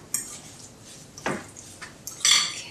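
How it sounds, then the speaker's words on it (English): Spices are being mixed into tofu for a vegan egg salad, with a few separate clinks and scrapes of a utensil against a bowl, spaced irregularly and fairly close. "you can then mix the tofu with all the wonderful, good smelling aromas from those spices"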